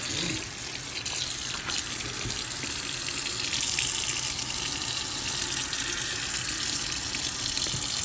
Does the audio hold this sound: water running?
yes